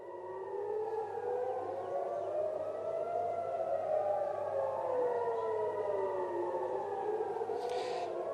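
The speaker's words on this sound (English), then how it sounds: "right now what you're hearing are sirens sounding across Tel Aviv" Air raid sirens wail steadily across Tel Aviv, several tones rising and falling and overlapping, loud and continuous with a distant, spread-out quality.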